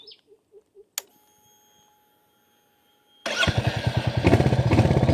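Royal Enfield Hunter 350 motorcycle: a few soft clicks and a beep, a hum from the ignition, then the engine cranks and fires into a loud, steady thumping idle close by.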